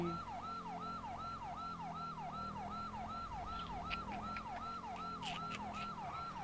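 Police siren from the GTA V LSPDFR game wails in a fast, regular up-and-down cycle, loud and continuous, with faint engine noise beneath.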